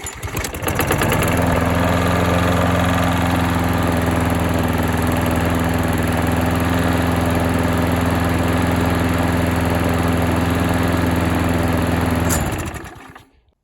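A lawn mower engine with a fault fires after a shot of gas, then runs as a loud, steady close-up drone for about eleven seconds before cutting out.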